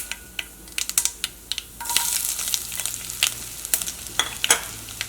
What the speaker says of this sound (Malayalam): ഇനി ഇതിലേക്ക് നമ്മൾ കട്ട് ചെയ്ത് വെച്ചേക്കണ ഇഞ്ചി ചേർക്കുക.